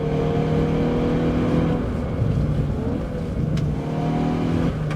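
Engine of a Hyundai i20N hot hatchback revving with rev matching on, a close, loud drone that rises and dips through blips and gear changes for several seconds without any speech.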